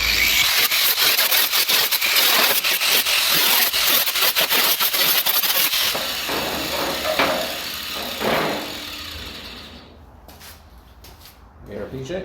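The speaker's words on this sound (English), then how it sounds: "for anyone who has one of these McAllister grinders, you know yourselves, you need ear protection" A McAllister grinder working a Morris Minor body panel: loud, harsh grinding with rapid rasping strokes for several seconds, then it winds down to quieter rubbing and handling noises as speech comes in.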